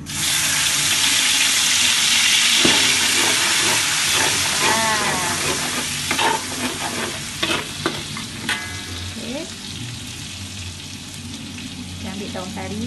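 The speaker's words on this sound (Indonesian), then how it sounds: "Minyaknya dah panas tu, kita masukkan bahan yang telah dikisar tadi. Bawang merah, bawang putih, halia," Ground shallot, garlic, ginger and lemongrass paste dropped into hot oil for Palembang chicken, a loud rushing sizzle that gradually settles, with stirring scrapes and clacks of a utensil, no speech.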